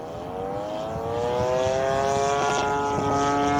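The small engine of an RC P-51 Passion Wagon model plane drones in flight, a steady buzzing note that swells in loudness and wavers slightly, with a faint burbling roughness.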